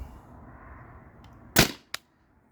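Tippmann TPX CO2 paintball pistol fired once, a sharp loud pop followed by a short decaying hiss and a faint second click, after a quiet low background.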